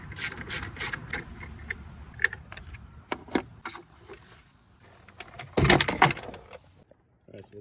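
A hand ratchet on a long extension loosens the 12mm bolt of a battery terminal on a Kia Sorento 3.3 V6, giving a series of quick clicking pawl bursts and metallic clinks up close, with someone talking between them.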